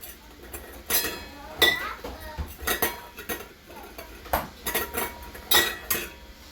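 Potatoes are loaded into canning jars for dry canning, with scattered close clinks and knocks of glass and utensils in an irregular rhythm, fairly quiet, with faint talk in the background.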